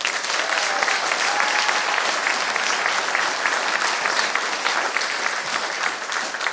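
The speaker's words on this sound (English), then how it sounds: "I think they deserve another round of applause." A drama society audience gives sustained, even applause, the clapping holding strong and unbroken for several seconds.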